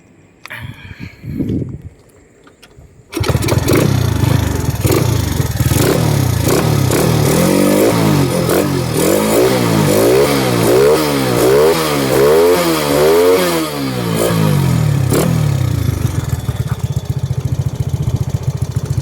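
A used Honda Wave 125 motorcycle is quiet for about three seconds, then its engine starts abruptly and runs loud and close, rising and falling in pitch with revving before settling to a steady idle.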